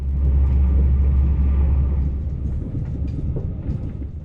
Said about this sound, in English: Plenty of running on this trip is at or near to this train's maximum speed of 180 km per hour